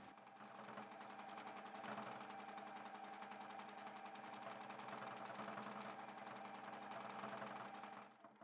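Sewing machine doing free motion thread sketching on a flower applique, a fast continuous mechanical chatter with an even rhythm at moderate volume, running alone until it stops near the end.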